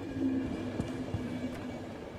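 A scheduled train in the video game The Final Station rumbles and clatters with a low steady drone, a few soft knocks and clicks in the mix, fairly close and continuous.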